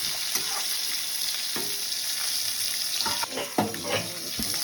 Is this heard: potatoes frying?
yes